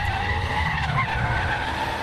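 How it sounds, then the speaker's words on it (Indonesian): A drift car in a rookie-class qualifying run of the Indonesian Drift Series 2021 skids with a continuous loud tire squeal over engine roar, sustained and close throughout. "Understeer sekali mobil dari Ezra Kinanta ini"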